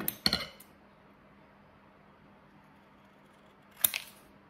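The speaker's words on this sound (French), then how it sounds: "Du coup, on découpe." Scissors snip through printed paper house cards in a quiet room. Two short bursts of crisp cuts are heard, one at the start and another several seconds later, with near silence between them.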